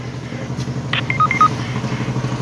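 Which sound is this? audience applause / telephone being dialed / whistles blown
telephone being dialed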